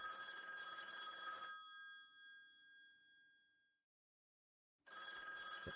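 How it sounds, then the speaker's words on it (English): A telephone rings in the video game Z.A.T.O., a bright bell-like tone with sustained overtones that decays over a few seconds, then cuts back in abruptly after a short silence. "Oh, phone ringing. Barely hear it."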